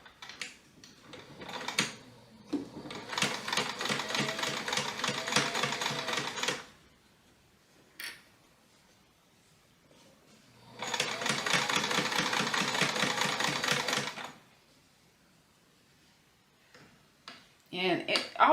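Kenmore sewing machine with a size 14 needle and tight tension stitching a pencil pouch, in two steady rapid runs of several seconds each with a quiet pause between, plus brief talk and small handling noises around them.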